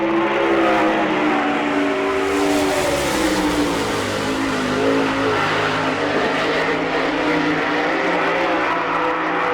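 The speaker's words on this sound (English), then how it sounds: "This is Butch Schrader coming off turn number 4 for the green flag." Sprint race car at the Jack Gunn Memorial in Selinsgrove, Pennsylvania, a loud, continuous roaring engine under green flag, throttle rising and falling as it powers out of the corner.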